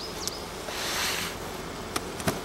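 Honeybees buzzing around an opened hive of stacked boxes, a close steady insect hum with a few louder passes of individual bees, no talk.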